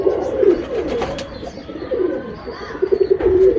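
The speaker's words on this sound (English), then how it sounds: "This pigeon flying very good." Soft, throaty cooing from flying pigeons kept in India, repeated and overlapping at close range, with low, rolling burbles throughout.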